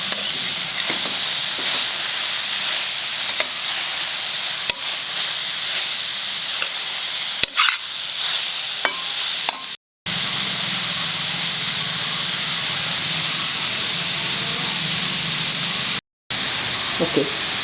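Carrots frying in ghee with a small cinnamon stick and three cloves, for carrot halwa (gajar ka halwa). A steady, close sizzling hiss runs throughout, with occasional stirring clinks and two brief drops to silence.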